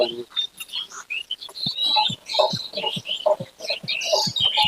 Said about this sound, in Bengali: দেখুন বাবুই পাখির বাসাগুলো কিচির মিচির কিচির মিচির করছে